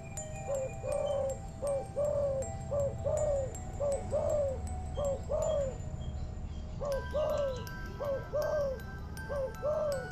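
Repeated soft cooing calls from doves, a rhythmic series of hooting phrases close by, with a short pause midway before the cooing resumes.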